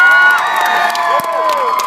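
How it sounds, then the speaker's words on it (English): A student crowd cheers and whoops in a sustained, loud wash of high voices, with scattered shouts rising above the din. "Guys, give her a nice round of applause."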